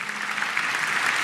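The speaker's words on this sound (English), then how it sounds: "Give him a round of applause." An audience at a county State of the County address breaks into continuous, dense applause, steady and fairly loud throughout the short moment.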